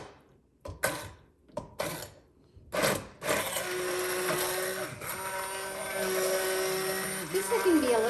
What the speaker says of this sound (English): I went ahead and I used the immersion blender and I've got more of a creamier base